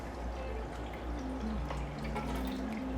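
Water draining out of aquarium tubing while a breeding tank is set up, a faint steady trickle with soft drips and a low background hum, no talk.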